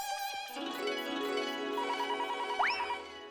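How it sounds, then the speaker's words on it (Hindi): An electronic phone ringtone plays a bright, repeating melody, clear and steady, with a short rising chirp near the end. "ये देखो एक और फोन आया"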